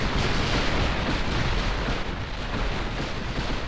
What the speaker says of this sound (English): Those are HE shells this time.